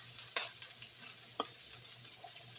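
Hamburger meat for a casserole simmering in a pan, a faint steady sizzle with a couple of soft clicks from a utensil, quiet and close with no talking.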